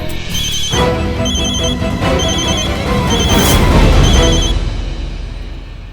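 A telephone rings after a number is dialed, its bell sounding in steady repeated bursts, loud and close, over a continuous background of music.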